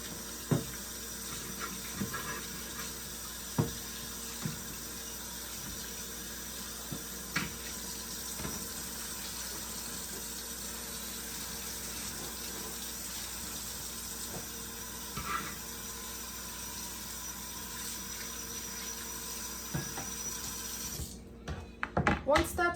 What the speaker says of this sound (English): wash your cutting board